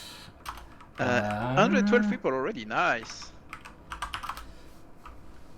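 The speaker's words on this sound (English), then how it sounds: "I can really hear your keyboard." A computer keyboard typing during an online gaming tournament broadcast: busy, rapid clicking keystrokes at close range, running under and between a person talking.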